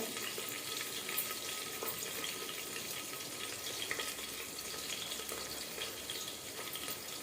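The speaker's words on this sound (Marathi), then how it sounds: "एक तीन लसणाच्या पाकळ्या घेतल्या होत्या बारीक चिरून त्या टाकून घ्या" Finely chopped garlic cloves fry in a pan for daliya khichdi, giving a faint, even sizzle that hisses steadily throughout with no voices.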